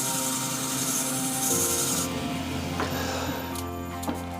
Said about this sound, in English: light rub by hand